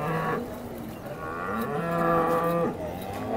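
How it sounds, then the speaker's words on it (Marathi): A large cow at the Modnimb cattle market gives two long, deep moos, the second drawn out over a second, loud and close against a faint background of the market. "मुल्लिम बाजारातील मोठ्या मापाची गाय आहे ही."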